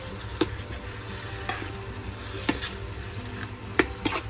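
Bitter gourd and egg stirred in a frying pan, with a steady low sizzle and a few sharp spatula taps and scrapes spaced about a second apart.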